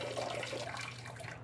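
Gasoline poured from a can in the horror game Conarium, a steady liquid splash and gurgle with a low hum beneath, continuous and close for a moment, no voices.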